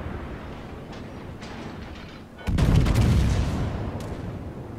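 Naval gunfire from battleships in the World of Warships video game: a quiet low rumble gives way halfway through to a loud, sudden broadband boom that rolls on as a sustained heavy roar, with no talk over it.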